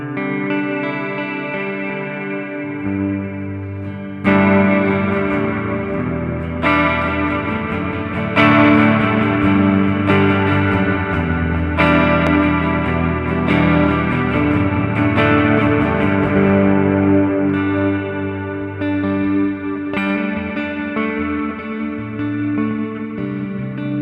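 Sustained electric guitar chords through a Strymon DIG digital delay pedal, washed in echoing repeats that smear into a spacey, reverb-like haze, loud and continuous with no voices.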